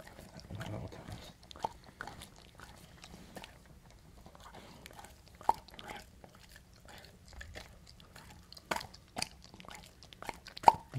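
A newly adopted dog chews and gnaws on something close to a microphone, producing faint irregular crunches and sharp bites scattered through a quiet room, with soft speech near the start.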